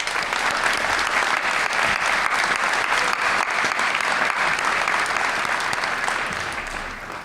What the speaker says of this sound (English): Please join me now in a final round of applause for the newest members of our National Honor Society.